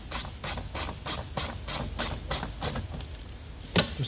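A ratchet wrench loosens the headlight bracket bolts on a VW Tiguan Mk2, giving a fast, even run of close, crisp clicks that stops near the end, leaving one brief knock.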